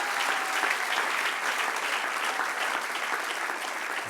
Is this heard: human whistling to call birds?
no